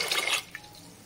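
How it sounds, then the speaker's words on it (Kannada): Water poured from a cup into a pressure cooker, a brief splashing pour lasting under half a second, then a single faint drip, close and quiet. "ಅದೇ ಕಪ್ಪಿಂದ ಎರಡು ಕಪ್ಪು ನೀರನ್ನು ಹಾಕೋತಾ ಇದ್ದೀನಿ"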